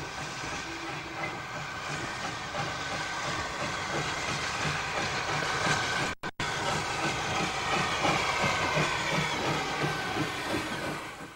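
Steam tank locomotive of the LMS-era railway rolling into a station beside a mining museum, a steady loud hiss of steam over rumbling wheels and faint clanks, continuous throughout with a brief dropout midway.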